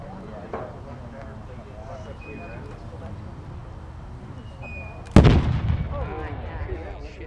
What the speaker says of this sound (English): That's a 100-pound anvil on top of 1 pound of powder.